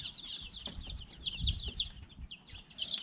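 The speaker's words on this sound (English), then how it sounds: "That's a Rhode Island Red chick." Young Rhode Island Red chicks peep in rapid, high-pitched bursts close by, a busy run of short chirps over soft background rustling.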